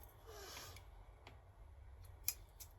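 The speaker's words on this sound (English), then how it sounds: "those are my scissors that don't cut" Scissors snip at paper while a baby centerpiece is being trimmed, giving a soft rustling cut followed by a few faint, sparse clicks and ticks in a quiet room.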